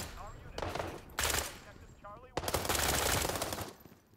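Submachine gun fire in the shooter game World War 3 rips out in two rapid automatic bursts, the second longer and very loud, with brief gaps between them.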